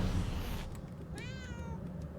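A cat in the video game Murdered: Soul Suspect gives a single clear, drawn-out meow after a moment of low rumbling ambience, close and moderately loud.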